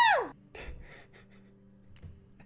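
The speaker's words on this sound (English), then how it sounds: "I want her to like make a screaming sound" A short high-pitched scream with a falling pitch opens the clip, followed by faint scattered rustles and quiet background noise.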